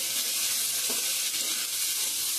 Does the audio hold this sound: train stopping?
no